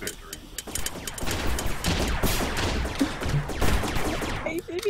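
Rapid bursts of gunfire from the video game Rec Room during a capture point shootout, dense and continuous throughout with sharp cracks layered over a busy background.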